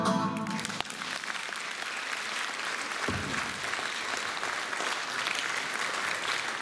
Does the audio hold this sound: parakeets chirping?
no